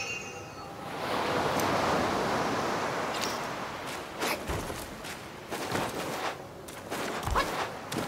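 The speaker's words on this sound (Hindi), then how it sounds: "ये देखो लहर, देखो यार समुंदर की लहर भाई" Sea waves in the video game Black Myth: Wukong, a broad rushing surge that swells up early and stays loud, then breaks into sharper splashes and crashes, with no talking.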